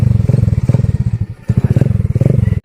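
A motorcycle engine runs steadily up close during a ride, its low throbbing pulse chugging with a brief dip midway before picking up again.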